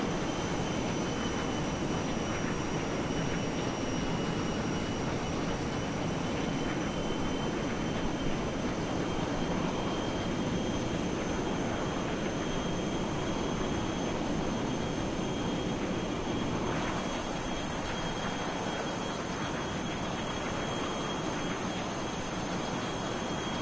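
A simulated airplane in Microsoft Flight Simulator 2024 drones continuously with a steady engine roar and faint high whine, loud and unbroken throughout with no voices.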